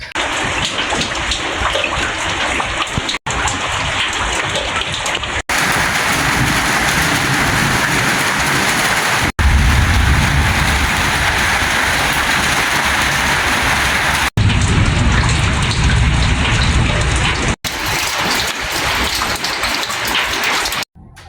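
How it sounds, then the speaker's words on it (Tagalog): Heavy rain pours down over a home garden in a steady, loud roar with no voices, interrupted by brief cuts; low thunder rumbles are hard to pick out beneath the downpour. "Uulan na po, kalakas po ng kulog at kidlat."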